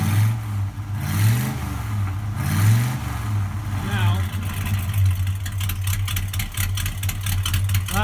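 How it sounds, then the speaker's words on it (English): A 1968 Dodge Charger engine idles with a steady low drone, then is revved in a few quick bursts, with a voice talking briefly over it. "Okay, rev it like that."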